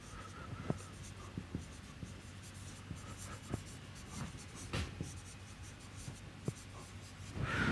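Chalk or pen scratching out equations during a mathematics lecture, faint, scattered strokes and taps spread across a quiet room, with no talking.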